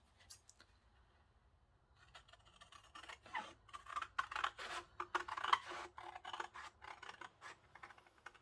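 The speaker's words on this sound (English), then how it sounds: "so I'll just trim that a little bit" Scissors trim paper for a junk journal, starting with faint snips and building into a close, rapid run of crisp rasping cuts and rustles in a quiet room.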